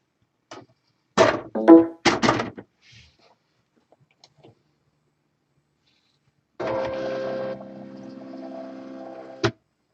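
A Silhouette cutting machine powers up and loads a PixScan mat, giving a steady, moderately loud mechanical whir with tonal motor hum that runs for about three seconds and ends in a short sharp clunk, after a few brief handling knocks.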